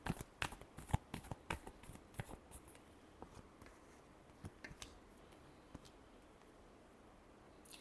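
Tarot cards being shuffled by hand, a quick burst of crisp riffling snaps that thins into scattered soft flicks, faint and close.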